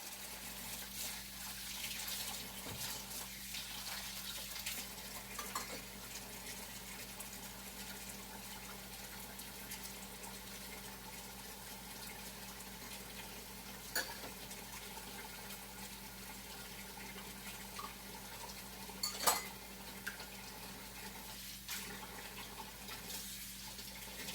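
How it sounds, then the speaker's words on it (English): Hot water running from a tap, a half cup's worth being filled for a shepherd's pie, a steady faint hiss of flow throughout with a few small clinks. "So we're going to add some hot water."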